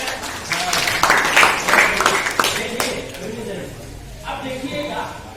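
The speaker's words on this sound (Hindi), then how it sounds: "इसके लिए तालियां हो जाए" Classroom applause for a student who has just read aloud in a Hindi lesson: a brief burst of clapping under an ongoing talking voice, fading after a few seconds.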